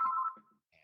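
A phone ringtone sounds close and clear as one short electronic tone that cuts off, followed by a faint trailing beep in a quiet room.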